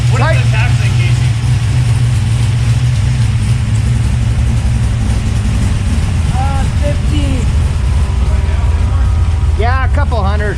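A Henry J gasser car engine idles with Flowmaster exhaust and cutouts, a loud, steady low rumble throughout with brief blips of revving, while people talk over it.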